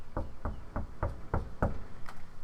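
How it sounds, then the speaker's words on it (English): Six evenly spaced, dull knocks against a wall with a metal shelf attached, each thud carrying a faint metallic ring, heard alone over a steady outdoor background hiss. "That was me knocking against a wall that had the metal shelf attached to it."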